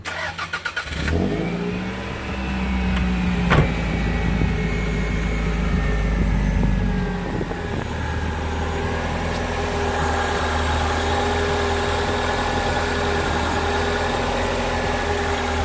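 Toyota MR2 with a 2-litre 16-valve engine: a loud, close rev builds and holds for several seconds, then settles into a steady, even idle that runs on to the end with no voices.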